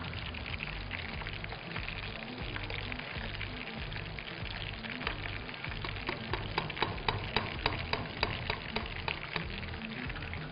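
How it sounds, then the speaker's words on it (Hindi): Samosas and round-cut potato fries frying in a pan of oil, a dense continuous bubbling sizzle with scattered crackles and pops growing busier toward the end, close and unbroken by talk. "समोसे तो भाई फ्राई हो रहे हैं"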